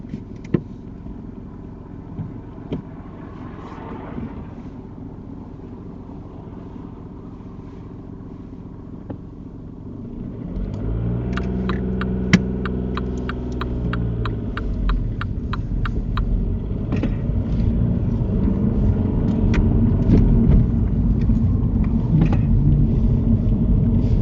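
A car pulls away at the start of a UK mock driving test. A quiet cabin hum gives way to a steady, close engine rumble that builds and holds as the car drives off. Nobody speaks.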